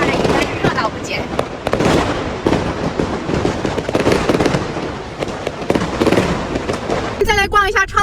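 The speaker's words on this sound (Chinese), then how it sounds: "居然有烟花，虽然下着雨，但是热闹不减" Fireworks crackle and pop continuously at night in the rain in a Guangdong town, a dense, loud barrage of bursts with a person talking over part of it.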